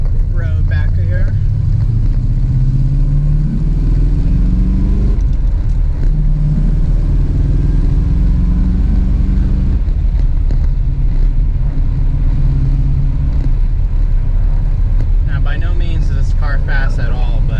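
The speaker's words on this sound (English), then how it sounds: "Hearing that engine scream out of the side pipes, that puts a smile on your face." Classic car engine roaring through side pipes on a small back road, a steady loud low rumble with rising and falling revs throughout, with someone talking over it.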